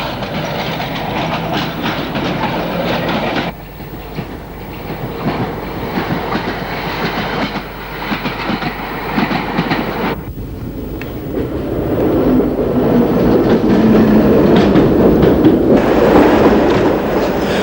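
A London Underground 1938 tube stock train rumbles along steadily with rhythmic clattering over rail joints, growing louder and heavier toward the end as it passes close by.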